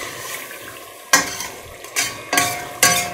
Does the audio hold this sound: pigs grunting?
no